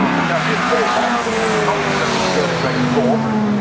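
Race cars including a Honda Civic and a Ginetta roar past at Cadwell Park in a club race, a loud continuous engine drone with shifting pitch as they close in, under a commentator's voice.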